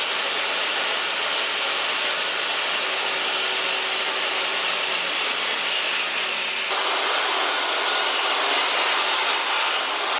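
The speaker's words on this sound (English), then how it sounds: "So we're gonna cut it into the 2 pieces that are 11 inches and then cut those" A power saw rips through a cedar board in one continuous, rasping whine that steps up and gets louder partway through as the blade bites deeper. No one speaks over it.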